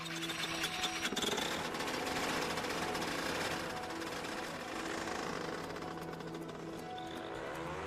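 Paramotor with an 80-pound, 28-horsepower engine and propeller running steadily close by, a loud continuous buzzing drone with harsh rattling overtones that stays even throughout, with no talking.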